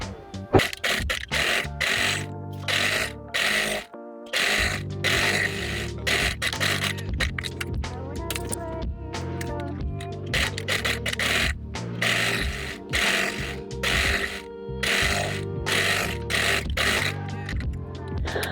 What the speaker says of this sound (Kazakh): Міне біз оң бетінен лапканың бойымен ғана етіп тігіп аламыз.